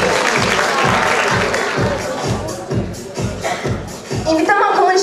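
Crowd applause at a 2019 high school freshman ball, clapping and hubbub over a strong, regular low thumping beat from the event's sound system, loud and close for about five seconds.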